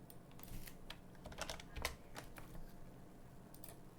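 Quiet keystrokes on a computer keyboard while filling in a character sheet, a loose run of light clicks and taps scattered over a few seconds against a faint low background hum.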